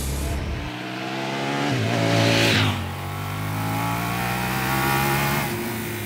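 A French motorcycle engine revs up and down loudly and close by, its pitch rising in a sweeping surge before settling into a steady drone.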